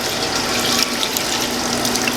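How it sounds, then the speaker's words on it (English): Water poured steadily into an ice cream machine to sanitize its metal surfaces, a continuous close splashing and rushing stream with no talk. "I'm going to pour this into the machine"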